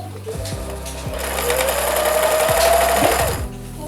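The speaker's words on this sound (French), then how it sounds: "une fois que je vais placer l'élastique pour la première fois, je vais retirer toute cette couture qui est ici" A sewing machine runs steadily at close range, stitching elastic onto fabric for a tanga, its motor whirring loud and continuous with a rising pitch as the speed builds before it slows to a stop.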